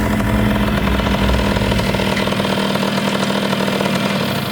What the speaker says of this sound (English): Hey, what's that noise? You hear that? Almost sounds like a motorcycle.